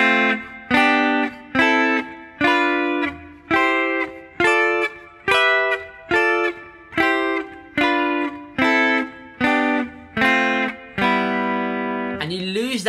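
Guitar triads from a harmonised major scale, played from the third triad upward, sound as about fourteen evenly spaced strummed chords, each ringing briefly before the next, ending on a longer sustained chord, clear and close with no talking.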